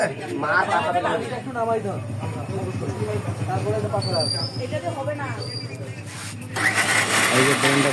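An electric blender grinds chillies with a little water, its motor whirring steadily under continuous talking and chatter, then growing louder near the end.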